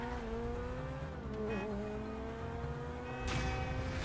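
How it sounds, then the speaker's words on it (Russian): Race car in Grand Theft Auto V gameplay, a steady engine drone with tire skidding and squealing, ending in a sharp skid burst near the end; no talk. "А еще плюс тачка гоночная."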